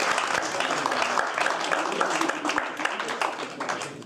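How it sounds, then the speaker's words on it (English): At a community activists awards evening, the audience applauds the winners with a thick, sustained round of clapping, some voices faintly mixed in beneath it. "A round of applause."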